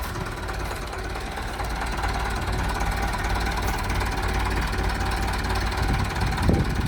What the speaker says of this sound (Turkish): traktör gidiyor arkadaşlar